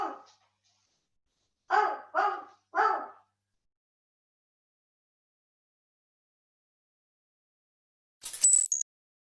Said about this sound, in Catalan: els tristos lladrucs dels gossos